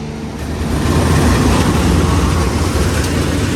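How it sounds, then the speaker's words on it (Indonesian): A deep, loud rumble of an Ijen Express locomotive engine churning steadily nearby as it is moved and turned at Bangil station, with a low throbbing drone and no voices. "Yuk kita lihat proses pemindahan lokomotif dan proses putar lokomotif di stasiun Bangil."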